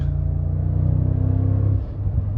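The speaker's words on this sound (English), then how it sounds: "I absolutely love the throatiness of the exhaust" Mercedes G-Class AMG G63 with a 4-liter engine, exhaust rumbling hard under full throttle from inside the cabin, a deep throaty drone building then easing off near the end.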